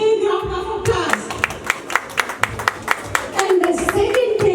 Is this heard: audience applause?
yes